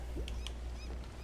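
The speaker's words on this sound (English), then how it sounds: "Chickens!" Chickens in the video game Spiritfarer give a couple of short, squawky honking clucks over a low, steady game background hum.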